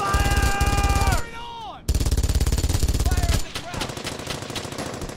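A mounted machine gun firing in Brothers in Arms: Hell's Highway, with loud rapid bursts, a brief pause, then more sustained fire, mixed with battle noise and shouting.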